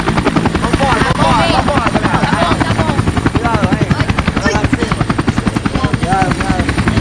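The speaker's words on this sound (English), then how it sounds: "Coming in choppers to the club." A loud helicopter in the video game Max Payne 3, its rotor thudding steadily throughout, with a high engine whine on top and voices talking over it.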